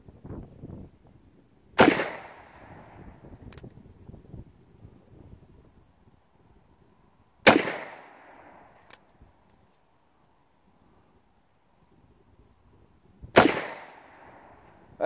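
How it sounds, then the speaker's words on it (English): Pietta 1873 Colt clone revolver fired outdoors uphill at close range, three sharp loud shots spaced several seconds apart, each with a short echo tail, amid light wind noise. "Actually shooting uphill here."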